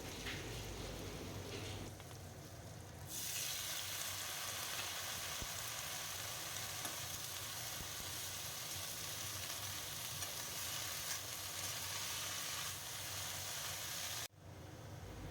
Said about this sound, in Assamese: আলুখিনি আধা ফ্ৰাই হৈ গ'ল আৰু মই এতিয়া ইয়াতে দি দিম এয়া ৰঙালাওৰ আগখিনি